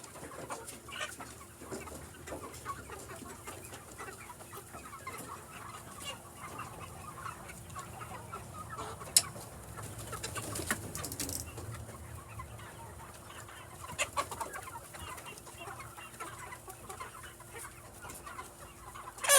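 Several chickens cluck steadily inside a gas-powered chicken tractor, close by and alone, with occasional sharper squawks and a faint rooster crow mixed into a continuous outdoor background.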